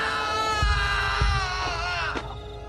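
A long, loud, sustained scream in a Filipino aswang horror audio drama, a shrill held cry over a low background, with a few dull thumps beneath it.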